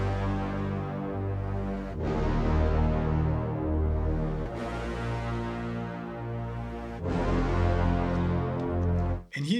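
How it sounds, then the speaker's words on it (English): A Forzo evolving loop designer patch played alone in Cubase: dense, sustained cinematic tones swelling and fading in long repeating phrases, rich low end, ending in a brief distorted sweep. "Forzo on its own sounds like this"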